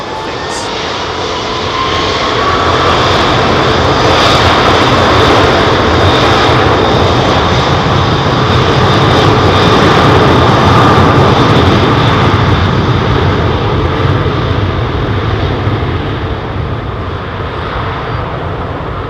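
A jet airliner takes off at London Heathrow Airport, a loud, close engine roar that swells and holds steady for many seconds, with no voices over it.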